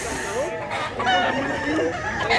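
A young gamecock stag at a rooster sale in Mantalungon, Cebu crows and clucks loudly up close in short bursts, with people talking over it.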